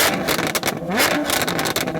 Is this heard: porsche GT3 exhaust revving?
yes